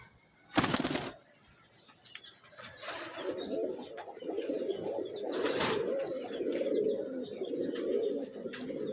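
Napta pigeons nearby, with bursts of wing flapping followed by soft, low, repeated cooing that continues steadily in a quiet setting.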